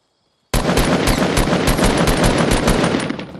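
Rapid bursts of automatic gunfire in a shooter video game, loud and close, with sharp repeated shots in a steady rhythm that start abruptly and keep going for about three seconds.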